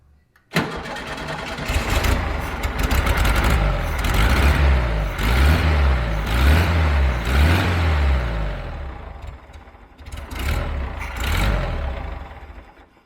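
A 1975 VW Fusca (Beetle) air-cooled engine starts and runs close by, rough and loud with revs rising and falling in pulses, dropping briefly near the end before picking up again.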